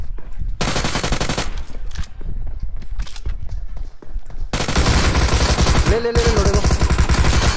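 Rapid automatic gunfire in BGMI as an enemy drop-shots, dense bursts of shots in fast rhythm, pausing briefly and then resuming continuously and loud, with someone shouting over the firing.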